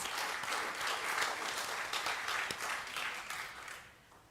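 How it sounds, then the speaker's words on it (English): A seated audience at a New Orleans lecture series claps in a sustained, moderately distant round of applause that tapers off toward the end, with no talking over it. "that deserves an applause"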